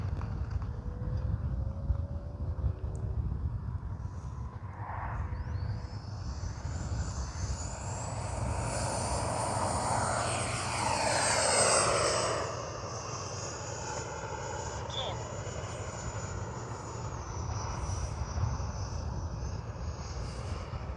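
A radio-controlled jet flies over an airfield at an RC event, a distant hiss that swells into a loud roaring pass and then fades to a steady drone.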